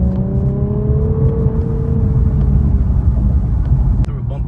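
Road and tire rumble inside an Infiniti Q50S Red Sport on a bumpy road, a steady loud low drone with a faint engine whine and one sharp bump near the end.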